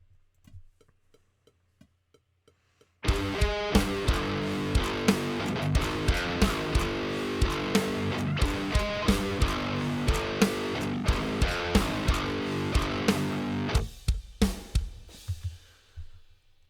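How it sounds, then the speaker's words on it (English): Distorted electric guitar riff locked to a thumping kick drum, steady rhythmic chugging for about ten seconds after a quiet lead-in, then stopping abruptly with a few ringing hits. "taking the kick and then playing something to that on guitar"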